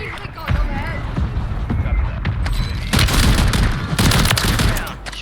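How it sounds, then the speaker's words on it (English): Mortar strike explosions in the video game Warzone 3 land as a run of loud, overlapping booms and blasts mixed with gunfire, with players talking over the action throughout. "Your squad I gave you some assistance with a mortar strike."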